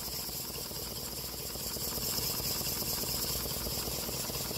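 A small model double diagonal steam engine, with a paddle driving its pump and valve gear off the eccentric, runs with a quiet, steady rhythmic clatter and hiss that stays even throughout.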